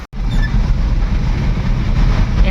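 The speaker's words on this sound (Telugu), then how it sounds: "నాన్ స్టాప్ వర్షం పడుతున్నది." Heavy nonstop rain drums outside during a flood, a loud, dense wash of falling water heard close up and steady from start to finish, without any talking.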